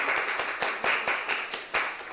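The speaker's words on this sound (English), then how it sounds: "let's just give a big giant round of applause to Adrian" Sparse, distinct hand claps at a live-streamed finance masterclass as the audience applauds the back office staff, a handful of separate claps spread over two seconds rather than a full ovation.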